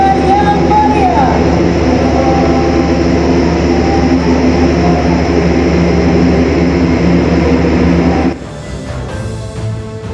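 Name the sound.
Airbus A400M transport aircraft arriving at Halim airbase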